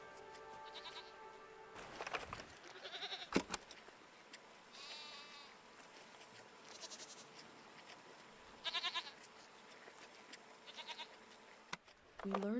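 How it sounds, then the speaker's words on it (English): Goat-like creatures in the video game SEASON bleat several times, short wavering cries at intervals over a soft ambient game backdrop, with a sharp click partway through. "What are these strange goat-like creatures? Are they simply goats?"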